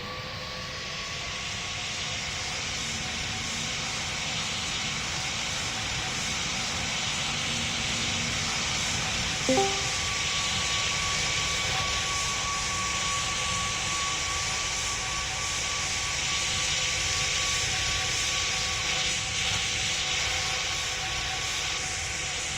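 A fixed-wing airplane powers up for takeoff in the Roblox flight game Pilot Training Flight Simulator, a steady loud jet roar with hiss that holds for the whole stretch, a brief tonal shift midway.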